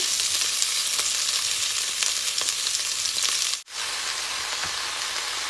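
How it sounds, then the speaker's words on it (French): Leeks and peppers fry in oil in a deep pan, a steady, close, loud sizzle holding throughout with a brief dip about two-thirds through, no voices. "On va faire dorer un petit peu nos légumes, juste pour les faire descendre un petit peu"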